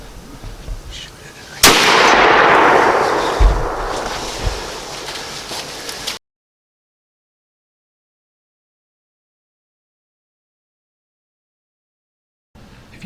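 A single loud gunshot from a 350 Legend rifle firing a 160-grain Bear Creek round during a Michigan buck hunt, with a sharp crack and a long outdoor decay and echo. Faint wind sounds before it, and the sound then cuts to silence.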